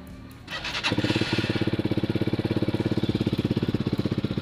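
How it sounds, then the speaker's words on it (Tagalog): A motorcycle engine starts and settles into a steady, rapid idle as it warms up, its loud pulsing beat close by and continuing alone without talk. "eto na ang ating motor. So siyempre painitin muna natin yan."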